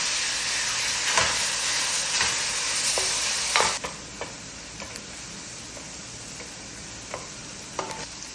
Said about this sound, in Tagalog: ilagay ko na sa pan yung giniling na laham. Halo-haloin ko lang siya hanggang mawala yung water niya